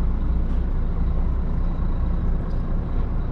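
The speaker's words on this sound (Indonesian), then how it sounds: "Ini bisnya ini VIP ini." A VIP bus that carries Hajj and Umrah pilgrims idles close by with a steady low engine rumble and faint air hiss from the brakes, and no talk over it.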